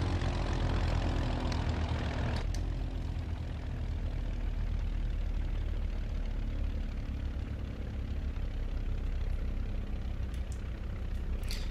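Steady drone of a propeller aircraft engine idling on a parking ramp in a flight simulator, continuous and moderately loud, with a slight change in tone a couple of seconds in.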